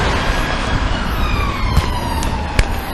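A police siren wails over steady traffic noise, its tone sliding slowly downward, with a couple of sharp knocks partway through.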